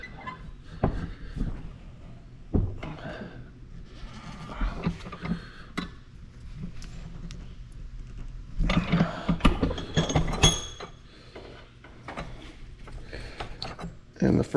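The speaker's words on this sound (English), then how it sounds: "And the first crimp is done." Crimping a spark plug wire terminal clamped in a vise on a 1975 Corvette, heard as close, irregular metallic clicks, squeezes and clanks of the tool and vise. Shuffling handling noises run between them.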